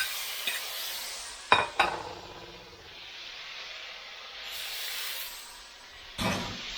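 Vegetables with broccoli stir-fried in a pan, a soft continuous sizzle broken by a few sharp scrapes and clatters of the utensil against the pan, with no talking.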